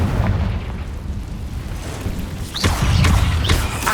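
Confringo blasting spells going off in Hogwarts Legacy during a cave fight: low rumbling booms under steady noise, then a louder burst of sharp crackling blasts near the end.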